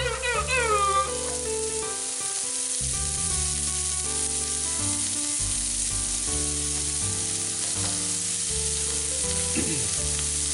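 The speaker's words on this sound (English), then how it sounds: "So now I'm going to add my celery" Chopped celery sizzles and fries steadily in a pan for tomato pasta sauce, a constant hiss under prominent background music.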